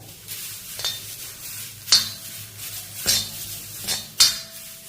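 Dried curry leaves dry-roasting in an iron kadai, a light scraping rustle with a soft sizzle as a metal spatula stirs, punctuated by four or five sharp metallic clinks against the pan, close up and without talking.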